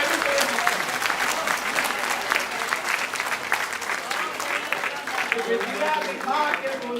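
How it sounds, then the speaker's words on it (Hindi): A poetry event audience breaks into sustained, dense applause, loud and continuous across the whole stretch, with voices from the crowd and a speaker mixed in beneath the clapping. "तालियां बढ़िया"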